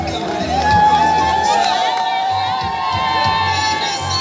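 A crowd shouts and cheers during a presidential visit in the DRC, with loud, sustained mixed voices, whoops and high children's cries all around.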